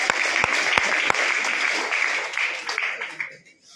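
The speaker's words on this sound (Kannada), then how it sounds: "ಅವರಿಗೊಂದು ಜೋರಾಗಿ ಚಪ್ಪಾಳೆ ತಟ್ಟಿ" Sustained audience applause in a village gathering, dense clapping with a few sharp louder claps early on, holding steady before thinning and fading out near the end.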